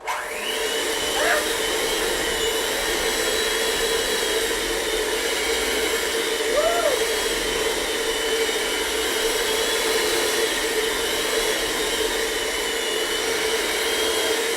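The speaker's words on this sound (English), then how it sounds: "now you're going to turn your hand mixer all the way up" A hand mixer runs at full speed in a home kitchen during a cooking show, a steady, loud whirring drone that holds unbroken for the whole stretch, with a few faint voices briefly rising over it.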